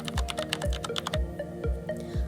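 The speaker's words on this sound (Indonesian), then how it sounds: "Cukup ketikkan TKA SD" Keys being typed on a computer keyboard in a steady run of crisp clicks, about a dozen close taps at an even pace, alone without speech.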